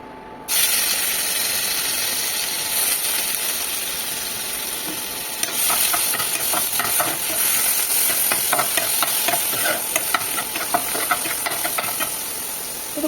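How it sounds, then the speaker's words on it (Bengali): Onion and tomato sizzle in leftover frying oil in a pan, a steady hiss with repeated scraping and clinking as a spatula stirs them, close and alone without talk. "এই ভাজার তেলটা রয়েছে, ওর মধ্যেই পেঁয়াজ আর টমেটোটা ছেড়ে দেবো।"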